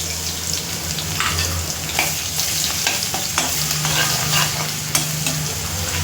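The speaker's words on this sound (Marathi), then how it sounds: "तेजपत्ता टाकते, थोडा खडा मसाला टाकते, मिरची टाकते थोडीशी, आणि अद्रक लसूण पेस्ट." Bay leaf, whole spices, chili and ginger-garlic paste frying in oil for a biryani, a crackling sizzle broken by repeated sharp spoon scrapes and taps, close and lively, with no voices.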